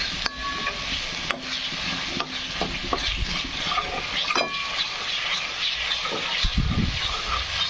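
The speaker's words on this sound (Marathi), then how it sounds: "छान असाला मसाला फ्राय होऊ द्यायचा आहे" A ground onion, tomato, garlic and ginger masala paste for mutton rassa sizzles and hisses steadily in a pan, with repeated clicks and scrapes of stirring close by and no talking.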